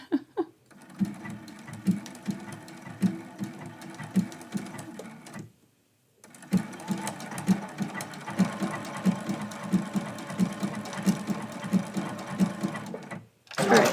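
A sewing machine runs a blanket stitch across a quilt test piece in two bursts of steady, rapid mechanical chatter, broken by a short pause near the middle and followed by a brief clunk at the end.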